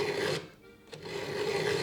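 A hand file rasps across the tooth of a STIHL chainsaw chain, close and steady scraping strokes with a brief pause between passes.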